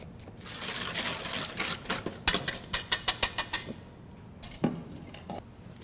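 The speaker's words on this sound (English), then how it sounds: "So I just wanted to do a quick peel of the shallot, cutting these into rings." A knife slicing a peeled shallot into rings on a cutting board, a rapid run of about ten crisp, evenly spaced chopping taps, close and fairly loud, with a couple of stray knocks afterward.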